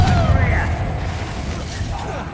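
A Confringo explosive spell goes off in Hogwarts Legacy with a deep, loud boom right at the start that rumbles away, mixed with game character voices.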